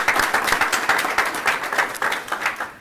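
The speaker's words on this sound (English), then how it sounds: "Want to give them a round of applause also?" An audience at a school district board meeting claps for an honored student, steady scattered applause of moderate loudness with no voices over it.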